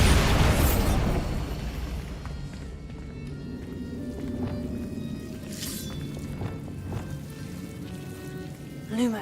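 Bombarda spell in Hogwarts Legacy: a burst opens the scene with a strong blast, followed by scattered debris pops and crackling that settle into quieter rumbling, ending with a small flare.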